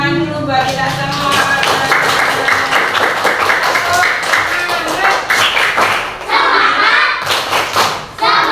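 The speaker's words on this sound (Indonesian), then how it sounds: "tepuk tangan dulu buat kita semua" A classroom group of teachers and students claps hands together, a dense, loud, sustained patter of many hands with brief thumps, cheering voices mixed in, dipping briefly near the end before resuming.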